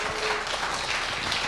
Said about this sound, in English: Is that applause for the gong?